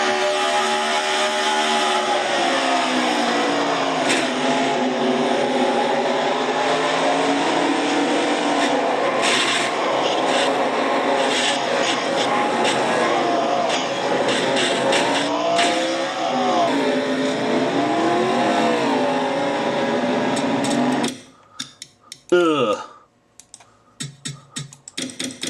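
Onboard a FedEx Nationwide Series stock car in the US Cellular 250, a loud, steady engine roar rises and falls with gear changes for about twenty seconds, then breaks into rough, chaotic bursts of scraping and impact noise.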